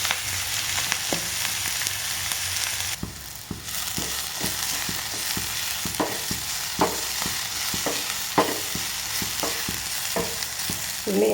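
Mustard seeds, dried red chilies and crushed onion fry in hot oil while a spoon stirs and scrapes the pan, with steady sizzling, popping seeds and repeated clanks from the stirring, close and alone.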